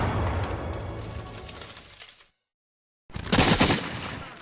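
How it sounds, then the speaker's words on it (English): Barrage of cannon and mortar fire during the siege of Charleston: rumbling booming blasts, a stretch of dead silence, then another heavy burst of explosive fire, distant-to-mid range with no speech. "the British rain a constant barrage of cannon and mortar fire down upon the town."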